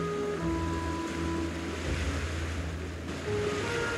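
Ocean waves wash against the shore at the starting area of the video game Valheim, a soft, steady surf hiss with gentle swells under faint sustained musical tones.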